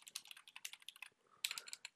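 Quick, crisp keystrokes on a computer keyboard while coding an Excel VBA login form, a rapid burst of taps, a brief pause, then another flurry, close and fairly quiet.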